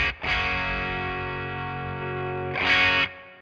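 Electric guitar played through a Two Notes Opus amp simulator with its EQ switched on gives a distorted, chorused tone: a sustained chord rings out, followed by a brighter, louder strum near the end.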